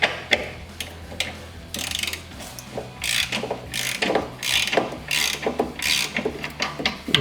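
A hand ratchet clicks in quick repeated bursts as it loosens nuts on a Jeep Wrangler TJ side step bar front bracket, close up with short pauses between swings.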